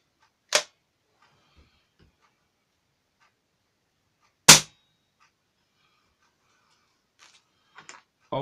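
Webley Typhoon air rifle fired during a chronograph test: two sharp isolated shots several seconds apart in a quiet room, followed by a few small clicks at the end.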